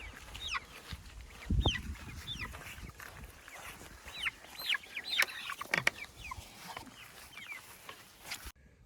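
Young chickens cluck and squawk while being caught by hand and moved from the brooder to a pasture tractor, many overlapping agitated calls at close to moderate distance with handling bumps and rustles.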